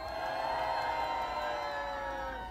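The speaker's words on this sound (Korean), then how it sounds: "확실히 함성 소리가 더 크네요" A large crowd at an outdoor rally in Gwanghwamun cheering and shouting, a steady, loud, dense roar that holds for the whole stretch.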